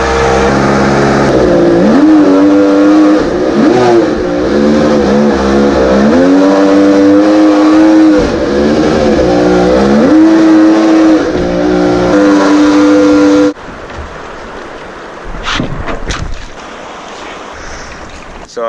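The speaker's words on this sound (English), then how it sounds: "Josh is starting up the Jetboat" A jetboat engine starts up and revs loudly nearby, the pitch rising and falling across repeated throttle blips, then cuts to quieter water and wind noise with brief knocks.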